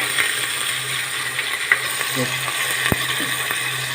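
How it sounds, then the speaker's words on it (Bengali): Marinated mutton fries in hot oil in a pan, giving a steady close sizzle with a low hum underneath and a few faint clicks and one sharp tap partway through. "মেখে রাখা মাটন দিয়ে দিচ্ছি"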